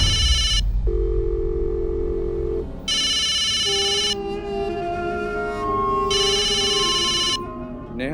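A telephone ringtone repeats in loud electronic bursts of about two seconds, separated by pauses filled with background music, ringing three times in a domestic setting.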